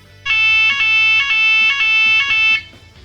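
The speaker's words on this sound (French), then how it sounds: "En cas d'urgence, une alarme va retentir." Loud emergency alarm at a port terminal, a shrill electronic tone pulsing in a steady, repeating pattern for a few seconds before cutting off.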